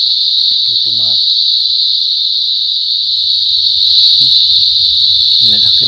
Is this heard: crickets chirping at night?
yes